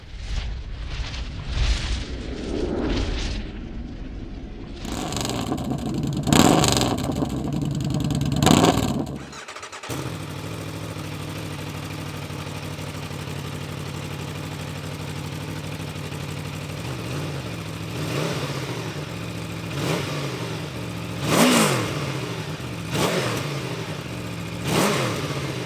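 A 2021 Aprilia Tuono V4 1100 Factory motorcycle's engine roars through several sharp revs, then settles into a steady idle with rising and falling pitch and a few more throttle blips later, close and loud.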